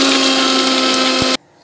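A kitchen blender grinds beetroot for juice in a steady, loud whir that cuts off abruptly near the end, leaving near silence, with no voices.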